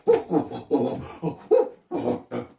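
A voice imitates a monkey in a drama session, coming out as a string of short barking yelps like a dog, about seven rough bursts in an uneven rhythm, close and fairly loud.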